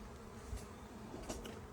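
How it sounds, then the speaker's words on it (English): Faint buzzing of honeybees in a thinned-out hive box with foundationless frames full of brood, a soft continuous drone at a distance with no talking. "There's way less bees in here."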